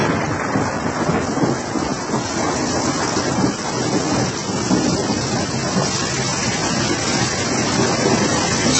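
Heavy rain pours down continuously as a dense, loud hiss with deep rumbling underneath, steady throughout with no voices.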